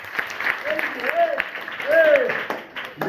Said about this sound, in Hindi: ताली बजाओ, वेरी गुड।